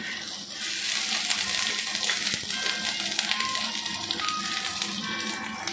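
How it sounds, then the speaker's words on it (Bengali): Bay leaf, cumin seeds, whole garam masala and chopped ginger go into hot oil left over from frying papad, giving a steady, fairly loud crackling sizzle with fine scattered pops throughout and no talking. "ওই পাঁপড় ভাজার তেলটাই আমরা এবার দিয়ে দিচ্ছি তেজপাতা, জিরে, গোটা গরম মশলা, আর সঙ্গে দিচ্ছি আদা কুচি"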